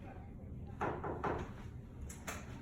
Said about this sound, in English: you should open the curtain or open the door as you leave